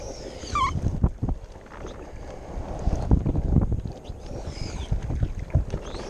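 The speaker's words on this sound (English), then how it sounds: "The wind's kicking up, so it's getting a little harder to paddle." Wind gusting over an inflatable kayak on Lake Somerville, Texas, with rumbling buffeting against the microphone and irregular paddle splashes and thumps, plus a faint bird call.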